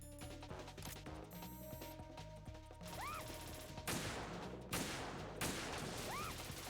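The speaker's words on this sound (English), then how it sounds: "Who the hell is shooting? Where is that coming from?" Gunfire in Metal Gear Solid crackles in repeated bursts amid busy game sounds and music, with several sharp louder volleys punctuating a steady, fairly quiet background.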